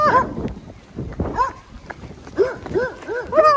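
A dog barks in short repeated bursts while running during heavy rain on a coastal trail, with excited human voices and footsteps mixed in close by.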